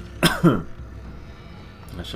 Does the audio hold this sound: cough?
yes